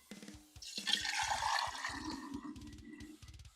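Fermented hot pepper brine, sour like apple cider vinegar, is poured gently from a jar, giving a steady close liquid splash and trickle over a few seconds.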